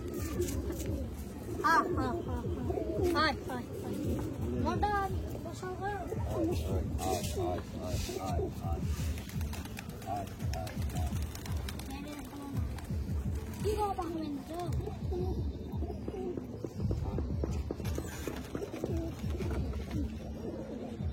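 Pigeons coo in soft, repeated throaty phrases close by, a continuous low burbling under people talking.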